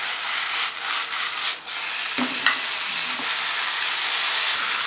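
Sunflower sprouts and fresh shiitake mushrooms seasoned with light soy sauce and sugar are stir-fried briefly in a pan, producing a loud, continuous sizzle with occasional scraping and tossing sounds from close by.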